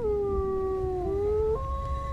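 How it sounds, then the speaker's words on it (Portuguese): A wolf gives a single sustained, tonal howl with a gliding pitch that steps upward near the end, heard clearly over a low background rumble. "Enquanto corria, escutava um uivo seguido de outros dois."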